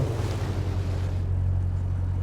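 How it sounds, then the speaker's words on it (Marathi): A Lexus LX 570 in a video game churns through deep water, with continuous low rumbling and sloshing splashes under a steady engine drone, loud and close throughout. "पाणी इथे खूपच जास्त आहे. इथे जास्त प्रॉब्लेम आहे मागल्यापेक्षा."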